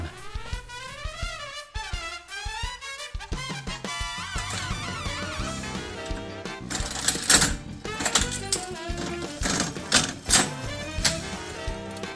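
An old mechanical slot machine runs a test spin with its back cover removed, reels whirring with rapid clattering mechanical clicks and ratchets, then a burst of sharp clunks as the reels stop.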